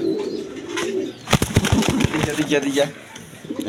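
A pair of pigeons at a wholesale pigeon dealer's coos softly in the background while someone talks loudly over them almost throughout.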